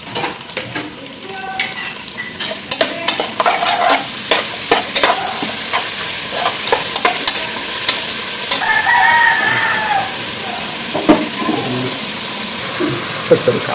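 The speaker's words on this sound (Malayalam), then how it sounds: "സവാള പച്ചമുളക് ഇട്ടെടുക്കാം അപ്പോൾ അതിൻ്റെ കൂടെ തന്നെ നമുക്ക് ചെറിയുള്ളി വെളുത്തുള്ളി ഇഞ്ചി ചതച്ചതും കൂടി ഇട്ട് കൊടുക്കട്ടോ" Onion, green chili, shallots, crushed garlic and ginger fry and get stirred in a pan for a Kerala stew, with steady sizzling and utensil scrapes throughout, a rooster crowing in the background and faint talk.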